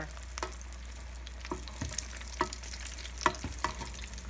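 Falafel balls deep-frying in a fryer, a soft steady bubbling hiss with scattered faint clicks and small pops, fairly quiet and without talk.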